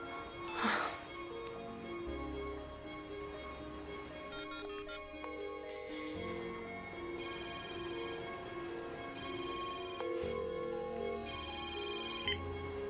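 A mobile phone left behind by its owner rings indoors in a repeating pattern of bright electronic tones with brief gaps between them, fairly quiet, over soft background music and no speech.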